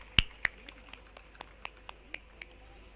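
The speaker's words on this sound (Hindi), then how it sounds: "जोरदार तालियां हो जाएं प्लीज।" At a government event launching new CNG buses in Delhi, a few scattered hands clap slowly and unevenly, with about a dozen distinct, sharp claps spaced apart over a quiet background.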